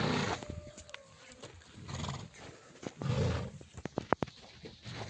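Mares and their foals, a mixed herd of horses near Bishkek, give a short whinny early on amid scattered snorts, hoof shuffles and clip-clop, close by and fairly quiet.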